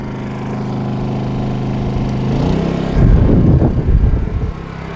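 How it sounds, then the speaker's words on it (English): A Honda engine idles steadily, then its revs rise a little and it settles into a louder, rougher running note, heard close with no talking. "Now I'm just going to increase the revs up a tad on the Honda."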